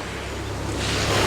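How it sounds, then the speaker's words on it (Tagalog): Sea waves wash steadily onto a beach in Italy, a loud, close, continuous surf rush with wind buffeting the microphone and no voices. "nagpunta kami sa beach na kasama yung aso, si Hermes."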